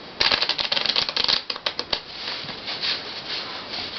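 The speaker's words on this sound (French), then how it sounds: "Donc on peut maintenant même mélanger le jeu." A deck of playing cards is shuffled close by, giving a quick run of crisp riffling clicks in the first two seconds, then a softer, steadier shuffling rustle.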